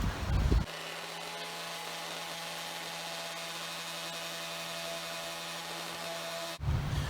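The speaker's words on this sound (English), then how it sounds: "I'm going to go ahead and hit it with the sander real quick." Power sander working the sides of a wooden lazy susan, a steady buzzing whir that holds evenly for about six seconds, close by, with brief clatter at the start and end.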